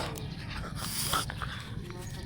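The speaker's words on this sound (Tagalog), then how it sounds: "At ito yung isa kong aso." A pet dog pants and whimpers close by in soft, uneven breaths, with a faint murmur of people in the background.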